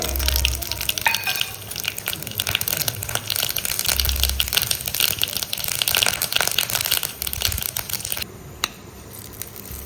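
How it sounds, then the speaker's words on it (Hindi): Red chili and mustard seeds tempered in hot oil for a ground chutney in an Indian village kitchen, giving a steady close crackling sizzle with sputtering pops that lasts most of the time before easing off near the end. "अब इसमें हम तड़का लगा देते हैं लाल मिर्च"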